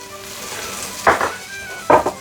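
Butter sizzling in a Ninja Combi pot with browned lamb and onions, a steady hiss broken by two short bursts of scraping and stirring.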